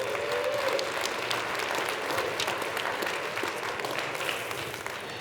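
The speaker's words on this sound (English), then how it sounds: "So let's give them a really big round of applause." An audience at an evening mountaineering speaker event breaks into a big, steady round of applause, a thick continuous clapping wash without speech.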